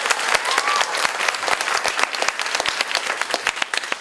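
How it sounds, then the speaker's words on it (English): An audience at a USC Annenberg School event applauds for Jennifer, with steady, dense clapping from many hands that fills the room and continues throughout. "So please, a round of applause for Jennifer."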